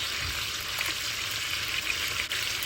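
Chicken sizzles in a pan while cooking for chicken pilaf, a loud continuous close-up frying hiss with a few faint pops and no voices.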